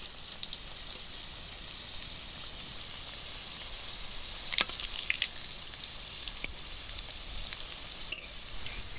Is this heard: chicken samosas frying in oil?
yes